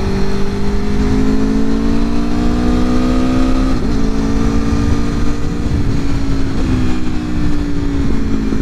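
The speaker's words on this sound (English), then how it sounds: "Oh, a little burble. A little exhaust burble." Aprilia motorcycle with its stock OEM exhaust burbling while riding on the road, a steady engine drone whose pitch dips and rises as the throttle eases, loud and close.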